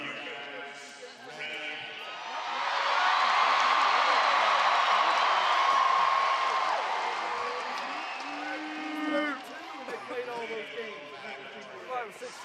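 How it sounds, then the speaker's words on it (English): Championship podium crowd roars and cheers, swelling into a loud sustained wave mid-clip before easing back, with an announcer talking over it. "the announcer is working the crowd to a frenzy"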